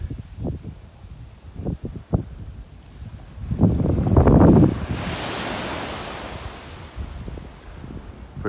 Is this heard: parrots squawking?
no